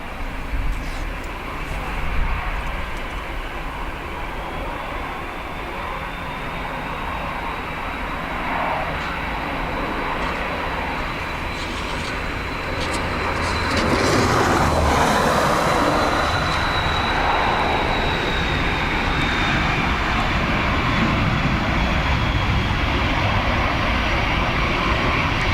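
A plane takes off at Dublin Airport on a windy, wet day, a loud sustained jet roar that swells and thickens partway through as the aircraft powers down the runway, with wind noise underneath.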